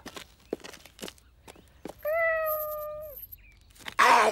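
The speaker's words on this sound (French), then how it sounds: "Viens, le chat!" A cat gives one long, clear meow lasting about a second, with a few faint footsteps or thuds before it and a burst of brighter noise at the end.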